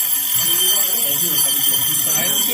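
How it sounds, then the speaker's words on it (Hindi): An old-style mechanical alarm clock rings with a steady, continuous bell clatter that stays loud and even for its whole length, with no pauses between rings. "पहले जमाने में इसी तरह का अलार्म होता था"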